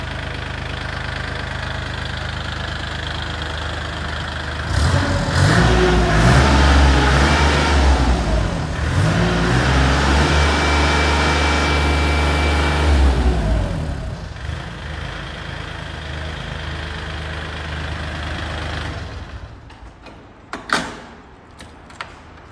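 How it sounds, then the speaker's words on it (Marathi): A Kubota L3408 34 hp tractor engine idles with a steady, smooth diesel rumble that grows louder and fuller for several seconds, then settles back to a quieter idle before a couple of sharp clunks near the end. "तुम्हाला आता फायरिंग येत असेल ऐकायला, तुम्ही बघू शकता किती स्मूथ आणि सॉफ्ट आवाज आहे"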